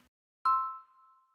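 A single bright chime-like pat sound effect from an Obey Me! video game rings out after a brief silence, sustaining a clear tone that slowly fades.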